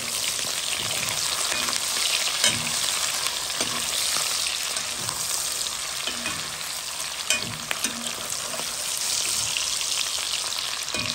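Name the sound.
onions added to frying meat for Creole carry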